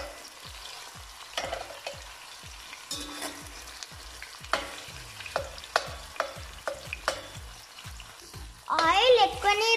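Onions fry in plenty of oil for vegetable biryani while a spatula presses and stirs them in repeated scraping strokes, close and clear, with a louder sizzling burst at the end.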